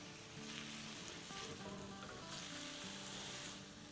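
Okra and onion sizzle together in a frying pan for bhindi keema, a steady close crackle with faint stirring scrapes and no voices.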